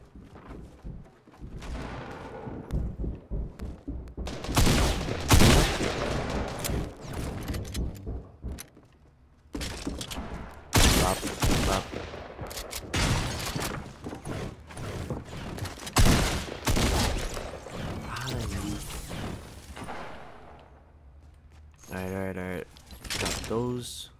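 Tactical shotgun blasts in the Fortnite Battle Royale game, several loud separate bursts spread across a busy stretch with other game effects, while someone talks over them.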